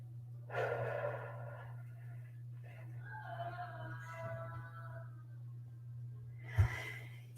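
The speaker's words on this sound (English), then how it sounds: "Exhale through your mouth. Do this about 4 or 5 times on your own" A person breathing deeply during a guided relaxation exercise, with a slow inhale followed by long, audible exhales through the mouth, close and soft over a steady low hum.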